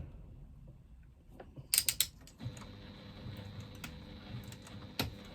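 A sewing machine runs a top stitch along the top edge of a slip pocket, beginning with a few quick clicks and a short burst before settling into a steady, close mechanical whir with light ticking, no voices.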